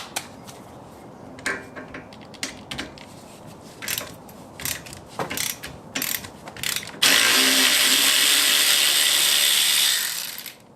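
Ratchet with a 10 mm socket working a bolt on an S550 Mustang: a run of quick, close clicking strokes in short bursts, then a loud, hissing mechanical burst near the end.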